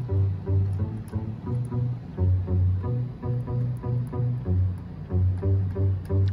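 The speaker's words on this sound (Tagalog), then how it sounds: "so ito naman yung tunog ng wash" A wash bass synth patch on a MIDI keyboard plays a steady, rhythmic run of deep bass notes. The tone is sustained and layered, with no talking over it.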